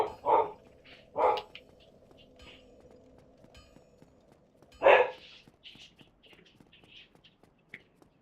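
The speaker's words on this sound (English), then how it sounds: "Something's upsetting my dogs." Household dogs bark in two quick single woofs and then one louder bark, with faint tapping and soft clicks trailing off afterward over a low background hum.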